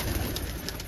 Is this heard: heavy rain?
no